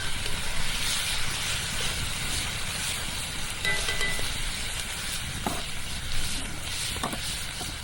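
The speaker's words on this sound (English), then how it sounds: "1 pound of burger, 1 can of pork and beans. That's typically about right for 2 people. Going to stir that together." A pound of ground beef and a can of pork and beans stirred together in a pan at a camp cooking setting, giving a steady close sizzle with soft scraping stirs throughout.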